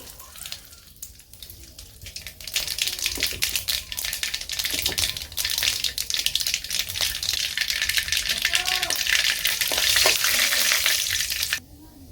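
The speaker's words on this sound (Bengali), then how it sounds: "সরিষা দিয়া দিছি আমি শুকনো মরিচ দিই" Mustard seeds and dried chillies frying in hot oil, rising from a quiet start into loud, close, continuous sizzling with crackling and popping seeds, then cutting off abruptly near the end.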